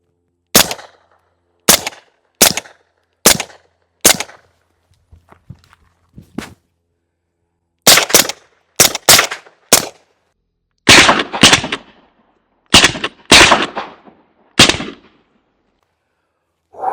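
Suppressed 9mm shots from a B&T GHM 9 carbine fitted with a Huxwrx Rad 9 silencer, fired at a 10-yard target: sharp, loud cracks in irregular singles and quick pairs, separated by short pauses.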